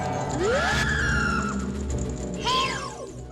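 A Re-Dead scream from the video game The Legend of Zelda: Ocarina of Time, two shrill, rising and falling wails with a harsh tonal edge, the first around half a second in and the second near two and a half seconds, over a dense, droning game backdrop.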